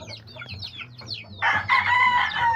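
Backyard chickens with their nearly grown chicks: quick chirpy peeps at first, then louder overlapping clucks and squawks from several birds close by.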